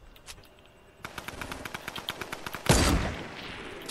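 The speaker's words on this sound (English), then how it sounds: "I hear firing" Rapid automatic gunfire in the video game Fortnite, a quick run of sharp, evenly spaced shots at moderate distance ending in a louder burst.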